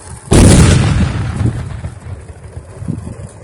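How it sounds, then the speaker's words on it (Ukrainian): A single loud controlled detonation of an enemy drone by police bomb technicians in Marhanets, Ukraine booms suddenly, a broad blast with a rumbling tail that fades over a few seconds into faint outdoor noise. "Зараз відбудеться підрив."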